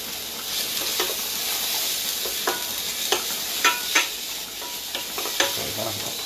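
Peppers and onions fry in a pan for a chicken biryani, a constant close sizzle broken by scattered scraping clicks of stirring.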